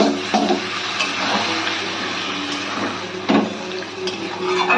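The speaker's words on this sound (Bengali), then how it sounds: "আমরা এতে 1 বাটি মশলা ধোয়া জল অ্যাড করে দিলাম।" Spice-rinsing water poured from a bowl into a pan of fish curry with taro and potato, a steady close splashing that runs throughout, with a few clatters of the pan and bowl.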